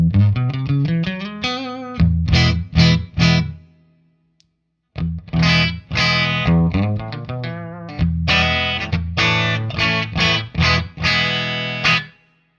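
A PRS SE electric guitar with its pickup coil tap engaged plays short distorted riffs and chord stabs, loud and close, separated by a brief silent pause before more clipped, chunky phrases.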